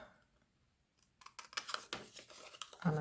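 Scissors snipping through paper pages to make book tags, a run of close, crisp cuts starting after a quiet moment and growing louder toward the end.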